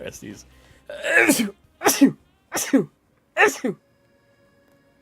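A single sharp sneeze bursts out among nearby voices, loud and close, with people talking in the clip.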